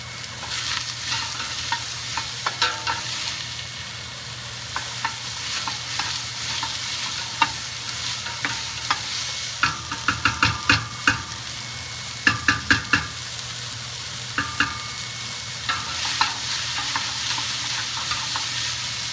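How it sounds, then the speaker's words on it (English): Pork pozole ingredients sauté in a scalding hot pan, a continuous close sizzle with clusters of sharp pops and spatters as they are stirred, with no voices. "Saute this until translucent."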